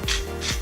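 Two short ratcheting bursts from a hand grinder as salt and pepper are cracked over a creamy cottage pie filling, close and distinct with a brief gap between turns.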